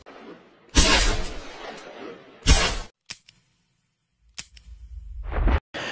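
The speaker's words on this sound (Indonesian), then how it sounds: "dengan satu tarikan Devi menghabiskan semua peluru Matthew menembak mati Jaginder" Gunfire in an action film scene, a pistol emptied in one burst: two loud broadband blasts close together, then a sharp crack, a pause, and further shots near the end.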